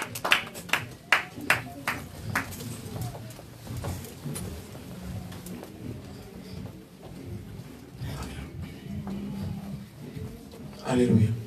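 A church congregation claps together in praise of the king of kings: a run of sharp, rhythmic handclaps up front, then a steady crowd murmur with voices and singing beneath.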